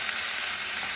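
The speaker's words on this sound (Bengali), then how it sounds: "এটাকে আমি এখন ভেজে নেব" Chopped onions and green chillies fry in hot oil in a pan, giving a steady, close hiss and sizzle with no voices over it.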